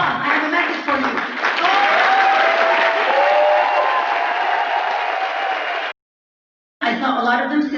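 Sustained loud applause from a large audience honoring standing military veterans and service members at a political rally, with some cheering mixed in, then a brief silence before the clapping resumes.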